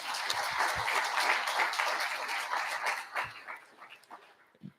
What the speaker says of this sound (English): Can you give a round of applause for our video crew?